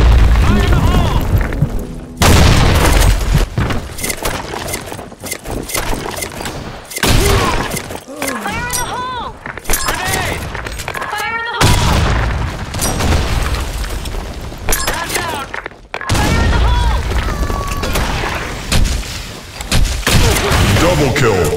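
Repeated booming grenade explosions with thuds and shattering debris fill a video game firefight, loud and nearly continuous, with shouted voices mixed in.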